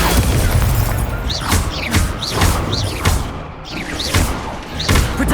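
Incendio fire spell from the Hogwarts Legacy video game, several loud blasting thumps repeating roughly every half second over a dense rumbling battle din.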